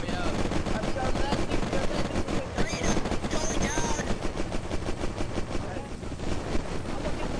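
Rapid gunfire from a Battlefield RP video game helicopter battle, dense continuous bursts of shots with explosions and engine noise, heavy and loud throughout, with players talking over the action.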